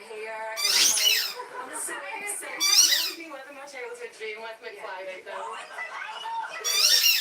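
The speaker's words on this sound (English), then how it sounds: "I can only put up with squeaking for a short amount of time" A puppy's piercing high squeaks and whines come in repeated bursts, loud and close, with a person talking over them throughout.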